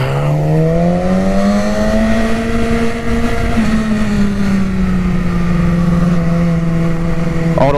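Yamaha R6 motorcycle racing a car on a road in Italy, a loud close engine howl that climbs steadily in pitch, holds high, then eases slightly, with constant wind rush throughout.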